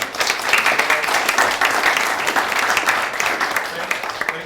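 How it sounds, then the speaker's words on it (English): Audience applause for staff at a southern area briefing in 2016, a steady dense wash of many hands clapping close by throughout, with no voices standing out. "I'd like you to give a big round of applause to the staff to help Emily."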